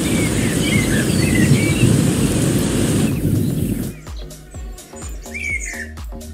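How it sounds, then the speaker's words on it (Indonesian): Birds chirp and whistle over a dense hiss of rain, then the rain cuts off and clicks and rhythmic tones take over with occasional bird calls. "Itu aja kayak suara-suara burung ya"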